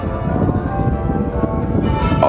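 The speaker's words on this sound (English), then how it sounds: "the chiming bells of church" Church bells chime steadily with ringing tones near Westminster Abbey, London, blended into a busy background of New Year's crowd and street noise.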